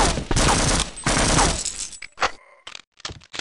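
Gunfire in Half-Life: Opposing Force: a dense, loud burst of rapid shots for about two seconds, then scattered sharp cracks and impacts with short gaps of silence between them.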